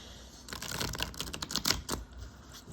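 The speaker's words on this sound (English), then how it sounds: "So I just want to make sure I've shuffled these properly." Quick, close riffling and soft slapping of tarot cards being shuffled, a burst of crisp flicks with no talking.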